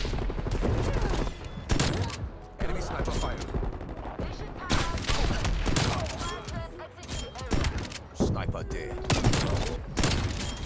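Repeated blasts from the .410 Ironhide shotgun ring out during a Black Ops Cold War match, loud booming shots among other gunfire and game effects, with a voice talking underneath.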